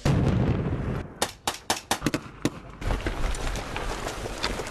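A loud rumbling blast during a military training exercise in a village, followed by a quick series of sharp bangs and cracks, then a lingering roar of debris and fire.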